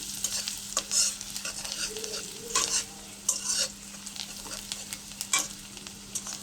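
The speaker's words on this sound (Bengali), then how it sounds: "জিরা ফোরন দেওয়ার পরে পেঁয়াজ কুচি দিয়েছি" Chopped onion sizzles in hot oil after a cumin and black cumin tempering, a steady fry punctuated by several scraping stirs, close and moderately loud with no voices.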